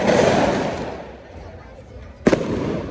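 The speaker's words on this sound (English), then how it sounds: "have fireworks as well" Fireworks going off during dinner on a street in Brazil: a dense crackling roar at first that fades, then a sharp, loud bang near the end over the hum of the street crowd.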